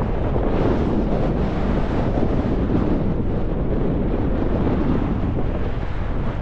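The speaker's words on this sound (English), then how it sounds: "I don't want that wind though." Strong wind blows steadily across a lakeside wild-camping pitch in the Lake District, a loud, continuous roar buffeting the microphone throughout, with no voices.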